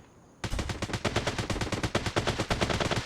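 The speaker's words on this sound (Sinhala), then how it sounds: "තාම වෙඩි තියෙනවනේ යකෝ." Rapid bursts of automatic gunfire in the mobile shooter Delta Force, operation mode, a loud rattling volley that starts abruptly and keeps going with uneven rhythm and no talk over it.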